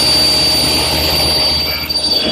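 A saw makes a 45-degree cut through a wooden corner block for a chair seat support, a steady loud broadband whine running for a couple of seconds and fading slightly at the end.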